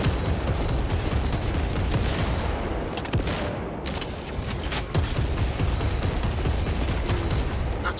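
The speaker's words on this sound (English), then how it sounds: "Throwing frag grenades!" Frag grenades go off amid heavy gunfire in a Space Marine 2 PvP battle. The blasts and shots form a loud, dense, continuous barrage with no break.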